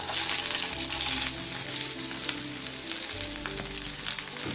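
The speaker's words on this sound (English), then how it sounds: "now we are going to add the onions" A mix of round and regular sliced onions goes into a hot pan, bringing on a loud, dense sizzle that crackles continuously, with faint scrapes underneath.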